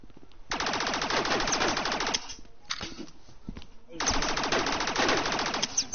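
Two long bursts of rapid automatic gunfire, loud and close, with a few scattered single shots between them and a voice talking through the firing.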